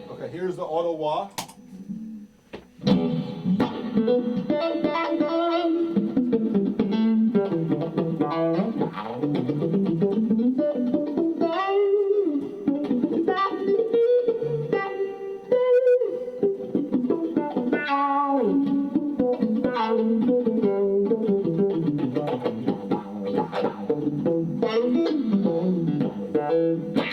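Electric guitar run through an auto wah pedal, a steady stream of strummed chords and riffs with a sweeping, vocal-like filter, loud and close for the whole stretch.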